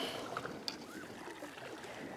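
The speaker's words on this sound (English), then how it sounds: "If your paddle goes in where your toes are and out right past your hip" A single kayak paddle stroke swishes through water beside the boat, a soft splash and gurgle close by with faint ambient noise.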